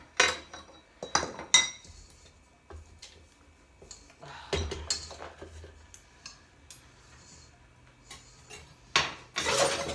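Metal measuring spoons and cups set down on a kitchen counter while making homemade vegan pizza, a scattering of light clinks and clatters, close and sparse, with brief pauses between.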